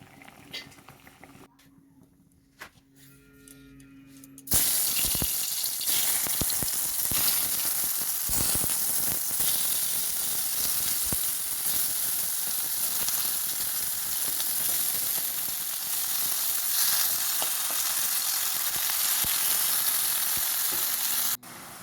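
Flat beans frying in a pan at home, a steady loud sizzle that starts abruptly after a few quiet seconds and continues unbroken with small crackles and pops.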